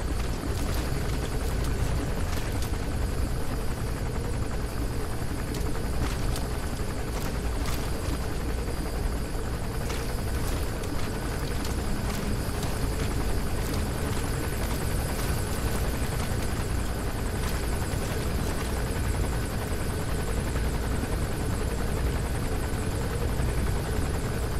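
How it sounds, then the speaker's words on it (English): A steady, loud enemy gunship helicopter drone with rotor chop in the video game Metal Gear Solid V: The Phantom Pain fills the whole stretch, constant and close, with no voices over it. "That's an enemy gunship."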